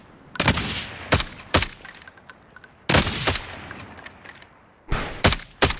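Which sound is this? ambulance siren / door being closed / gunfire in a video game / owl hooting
gunfire in a video game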